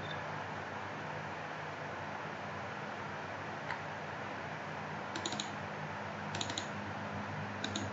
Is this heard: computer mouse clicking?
yes